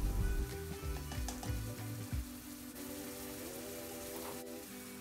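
Chicken masala fries in oil over medium-high heat, giving a continuous, close sizzle with soft scraping and thuds from steady stirring, loudest at the start and then settling into an even crackle.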